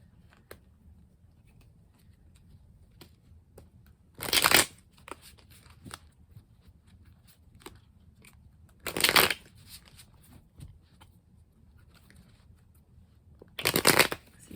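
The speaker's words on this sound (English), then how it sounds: "I'm gonna pull a few of the Yin and Yang Oracle cards." Yin and Yang Oracle cards being shuffled in three short, crisp bursts spaced several seconds apart, close and fairly quiet against a hushed room.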